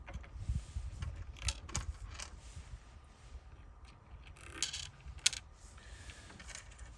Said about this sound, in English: we're going to put on the washers